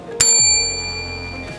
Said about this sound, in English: hit that bell so you too can be notified next time I upload another delicious recipe